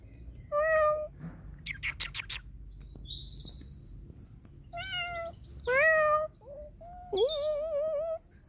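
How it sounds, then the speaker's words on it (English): Cat meowing in a garden, several drawn-out, rising and falling meows close by, interleaved with bright bird chirps and tweets in the background. "Here comes the cat."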